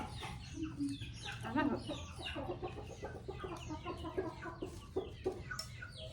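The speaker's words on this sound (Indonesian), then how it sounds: "Kok jago Mbak ambek anak." Chickens cluck repeatedly at a rural home, with a rooster among them, over steady background noise while people talk nearby in Javanese.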